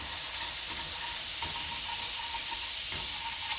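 Pav bhaji masala being stirred into the pan produces a steady, bright frying sizzle with a constant hiss. A couple of soft scraping strokes are heard faintly beneath it.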